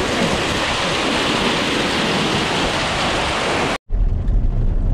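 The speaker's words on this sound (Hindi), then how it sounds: "ये ना भी बहुत तेज ओले पड़ गए थे" A heavy hailstorm with rain pounds down in the mountains near Rudranath, a loud, dense, continuous roar of hail and water. It cuts off briefly near the end, then resumes just as loud.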